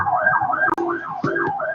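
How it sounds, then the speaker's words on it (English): An ambulance siren wails in rising and falling sweeps, steady and fairly loud, with a brief dropout partway through. "There's an ambulance sound at the background."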